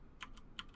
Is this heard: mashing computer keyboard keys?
yes